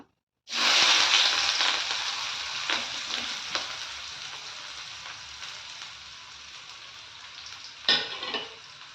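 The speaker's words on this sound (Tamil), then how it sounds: "நான் வந்து பெரிய ஆனியன் நல்ல பிக் சைஸ் ஆனியன் வந்து நான் பொடிசாக கட் பண்ணி வச்சுருக்கேன் சேர்த்துக்கலாம்" Chopped big onions hit hot oil with popped mustard seeds, giving a loud, steady sizzle for about eight seconds, with a sharp burst of crackling near the end while a fish-fry thokku is cooked.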